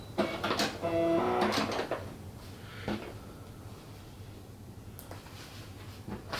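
A sewing machine back stitching on a swaddling blanket gives a short burst of fast mechanical whirring and stitching rattle, close and faint, then a low hum with light clicks.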